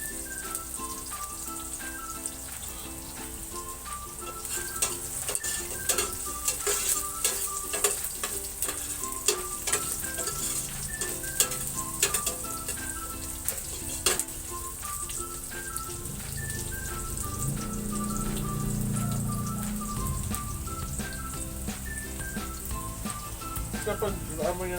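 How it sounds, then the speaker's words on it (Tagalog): Sliced onions frying and caramelizing in a pan give a steady sizzle under background music, with scattered clinks of stirring and a louder, denser frying hiss near the end. "Kapag naamoy na natin caramelize na ang sibuyas"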